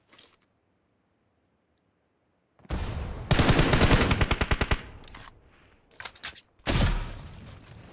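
Automatic gunfire from PUBG Mobile rattles out in loud, rapid bursts after a silent pause, with a sustained rat-a-tat volley followed by shorter shots and another heavy burst.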